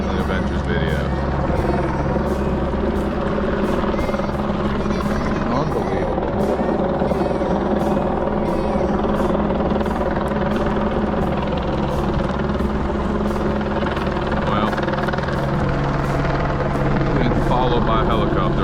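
Helicopter flying over a highland reservoir, a loud steady rotor drone with rhythmic chopping that stays strong throughout, under a dense engine hum.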